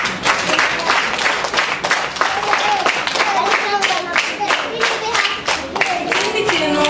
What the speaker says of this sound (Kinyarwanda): Imana ibahe umugisha mwihe amashyi